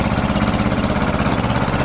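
An old Escort 335 tractor engine runs with a rhythmic, throbbing chug, close and fairly loud, its steady low pulsing beat carrying on without pause and with no voices over it.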